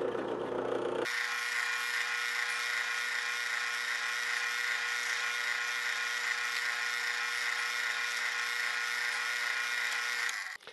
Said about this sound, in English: Okay, now I can drill the through holes.